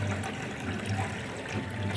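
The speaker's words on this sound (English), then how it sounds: "if I turn on the water, that there is, the water is not going down, it's sort of filling up" Tap water running steadily into a clogged washbasin that is filling up, a continuous close hiss and trickle with no pauses and no voices.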